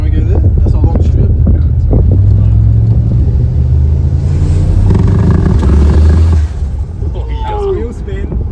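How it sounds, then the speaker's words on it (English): A car's wheels spinning on a long street strip, engine roaring loud and close with rough wind buffeting, the roar dropping off near the end as voices talk over it. "Wheel spin."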